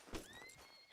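A mountain horse in the Red Dead Redemption 2 video game gives a short, faint whinny with a rising, wavering pitch, preceded by a brief thump.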